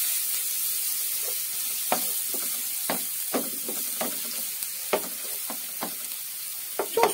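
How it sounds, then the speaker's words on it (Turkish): Chickpea filling ingredients for Turkish şiş mantı sizzle in a hot pan while a utensil stirs and scrapes, producing irregular soft clicks over the continuous frying hiss. "Koyduğum malzemeleri şöyle karıştıralım."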